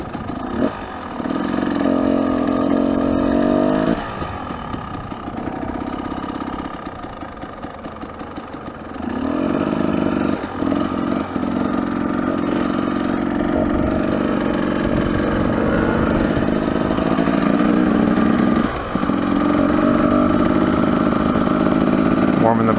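Carbureted 2018 Husqvarna-style TE300 two-stroke dirt bikes idling and warming up outdoors, a steady buzzing engine drone with brief blips of throttle and a dip in the middle, loud and close throughout with no talking.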